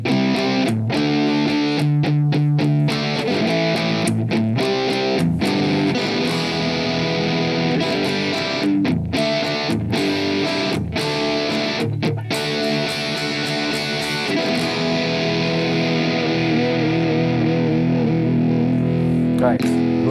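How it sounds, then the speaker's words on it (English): A heavily distorted 2018 Charvel San Dimas electric guitar plays chords and riffs continuously through a distortion preset, thick and buzzing, with short choppy stops near the start. "This is the distorted preset. It's called distort. I'm assuming it's distortion."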